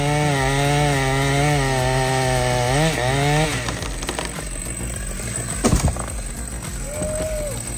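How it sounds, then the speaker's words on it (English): A chainsaw cutting into a huge tree whines loudly and steadily at close range, its pitch dipping under load before the engine cuts off, followed by scattered thuds and faint mechanical noise. "These guys cutting it down are like superheroes with those chainsaws."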